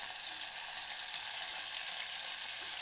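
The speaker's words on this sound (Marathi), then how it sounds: "टोमॅटो पण चांगला परतून घ्यायचा आहे" Onion and tomato sautéing in a pan for a bajra khichdi, giving a steady, dense sizzle that holds evenly for the whole stretch without pause or voices.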